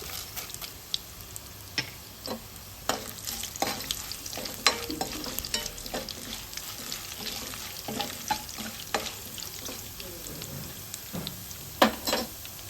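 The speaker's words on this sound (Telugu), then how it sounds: "తర్వాత కొంచెం అంతా కరివేపాకు వేస్తున్నాను చెంచల శనగపప్పు ఇది" Curry leaves and chana dal fry in a pan with a steady soft sizzle, broken by frequent crackles, pops and sharper spits, heard close with no talking.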